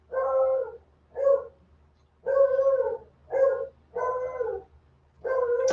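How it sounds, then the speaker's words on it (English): A dog gives six drawn-out, whining bark-like calls, each a separate burst of about half a second with short pauses between them, close and clear against a quiet room. "What are you barking at?"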